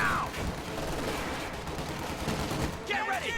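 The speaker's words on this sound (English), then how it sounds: "6 Grenadier models shooting at him" Grenadier units in a strategy video game let off dense, rapid gunfire, a continuous rattle of overlapping shots carried with battle noise throughout, while a commentator talks over it.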